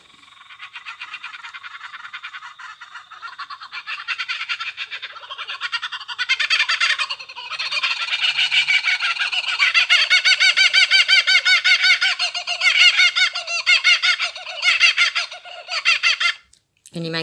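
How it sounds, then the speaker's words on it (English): A kookaburra's laughing call plays back from a phone app, a loud, continuous run of cackling, chattering notes that rises in intensity and then cuts off abruptly. "Here's the sound of the kookaburra."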